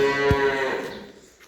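A cow on a farm lets out a loud, drawn-out moo with a clear harmonic tone, close by, while newborn calves are nearby. The call fades over about a second and a half and no one speaks.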